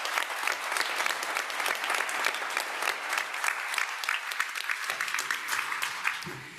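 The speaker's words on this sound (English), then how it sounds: "I would like to have a round of applause for everybody who's helped us out." A round of applause from a conference audience, dense steady clapping from many hands lasting several seconds before tapering off at the end.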